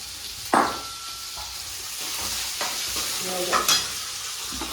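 Tomatoes and peanuts hit hot oil in a home kitchen pan, giving a steady close sizzle broken by scraping stirs and a couple of louder clattering spoon-on-metal knocks.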